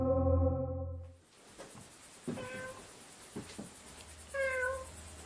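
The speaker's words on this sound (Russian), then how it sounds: "unos insistentes maullidos de gato pueden escucharse con claridad y muy cerca de Dark Ghost" A cat meows insistently at close range, several drawn-out calls separated by pauses and a quieter rustle, heard alone without speech.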